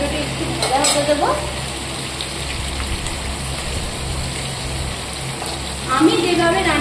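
Tomatoes sizzle and crackle as they fry in a pan, a continuous close hiss with a few stirring scrapes near the start and end.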